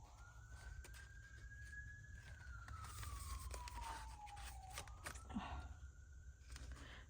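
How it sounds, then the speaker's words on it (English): An ambulance siren passes outside near a hospital, a steady faint wail that rises then slowly falls in pitch, distant under a low indoor hum. "Sorry for the ambulance"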